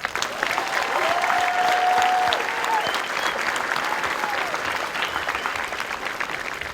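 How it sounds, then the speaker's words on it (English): Sustained applause from a large audience at a US Air Force Basic Military Training graduation ceremony, steady and fairly loud throughout, with a faint voice or tone briefly audible early on. "So give them a round of applause."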